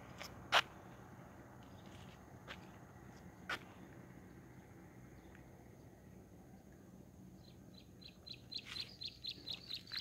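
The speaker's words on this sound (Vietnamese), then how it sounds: "Chỉ có nghe tiếng chim kêu, chim hót." Birds call and sing around a still, quiet lake in the countryside, with one sharp chirp early, a few scattered faint calls, then a run of quick repeated chirps near the end over soft background hiss.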